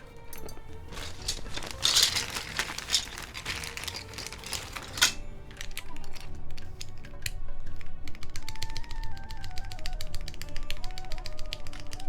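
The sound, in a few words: mechanical keyboard typing on ai03 Vector prototype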